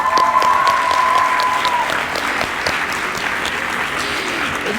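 Applause from a school crowd honoring track and field athlete Victoria Bartlett at her letter of intent signing, steady dense clapping throughout with a brief high tone at the start.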